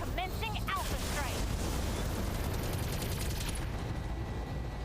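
Battletech mech alpha strike: a dense, continuous barrage of weapons fire and impacts roars loud and steady throughout, with chirping laser-like sweeps near the start and a voice speaking over the din.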